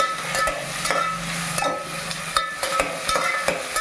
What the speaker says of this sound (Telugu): ఈ ముక్కలన్నిటినీ మనం హై ఫ్లేమ్లో వేయించుకోవాలన్నమాట